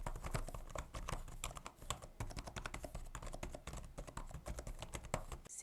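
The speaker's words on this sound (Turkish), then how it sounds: "klavye membran switchlerle geliyor ve buradaki switchlerin gerçekten çok sessiz olduğunu söylemek istiyorum" Rapid, continuous typing on a membrane gaming keyboard, soft muffled keystrokes tapping in an uneven rhythm at close range with no talking.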